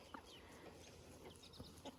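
Free-range chickens cluck softly as they run about, a few faint, scattered clucks and chirps over a steady background hiss.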